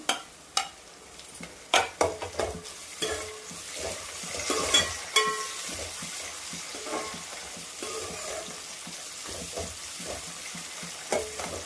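Bitter gourd frying in a pan with chopped green chillies, curry leaves and onions, a steady sizzle broken by repeated stirring scrapes and clinks of the spoon, close and alone.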